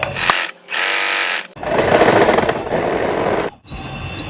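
A sewing machine stitches fabric for a newborn baby's dress in two loud, steady mechanical runs, with a short pause between them and a brief break near the end.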